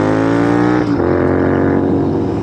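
Royal Enfield INT650 custom motorcycle fitted with S&S exhaust pipes, heard riding: a loud, steady engine drone with a deep, rumbling exhaust note that dips briefly as the revs shift, then carries on.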